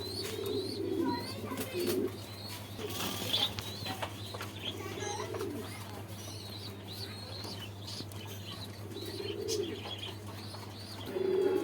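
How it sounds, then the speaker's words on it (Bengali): Pigeons coo in low, rolling phrases at a bird exhibition and market, several birds calling in turn, with faint chirps and a steady background hum throughout. "সব ভালো কোয়ালিটির কবুতর আছে।"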